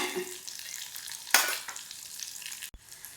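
Onions sautéing in a pan give a steady, faint sizzle with soft stirring scrapes, a brief louder burst of frying near the middle and a sharp knock near the end.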